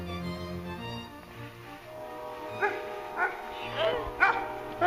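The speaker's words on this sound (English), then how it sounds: "There are the puppies that have been following us." Puppies bark and yip in a series of short, high calls, growing more frequent toward the end, heard outdoors on a snowy hike with a low background hum and faint voices.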